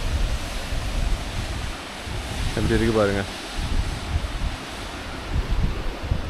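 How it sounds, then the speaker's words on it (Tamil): Water cascades and rushes down near Bomburu Ella waterfall in Sri Lanka, a steady loud roaring wash throughout, with someone speaking briefly over it partway through. "இது அதிலிருந்து வார தண்ணி வந்து இது வேறு எதுலேயோ அப்படி கொட்டி போகுது அந்த பக்கம்."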